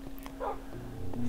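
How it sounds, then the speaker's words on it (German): Dogs barking in the video game Minecraft, a few short yips and barks close up over a steady background hum. "hier habe ich die ganzen Hunde hingebaut"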